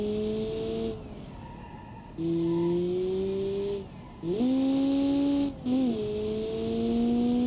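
A lightweight car's engine in Automation/BeamNG drones and revs through several gear shifts, pitch rising and dropping between brief gaps, with a faint squeal at moments.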